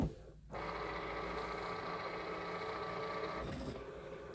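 A printer used for sublimation printing runs steadily for about three seconds, a continuous mechanical hum with a whirring tone, starting abruptly after a brief quiet moment and easing off near the end.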